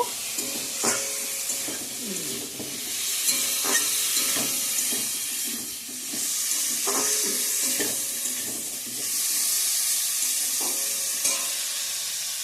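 Cumin and chili powder masala sautéing in a pan for a Bengali home-cooked dish, a soft continuous sizzle broken by periodic stirring scrapes and clinks, moderately quiet with no talk.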